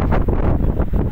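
Wind rushes steadily across the microphone in a low, rumbling roar, with a few soft gust swells over about a second.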